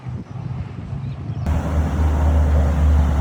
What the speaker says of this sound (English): But yeah, it's windy.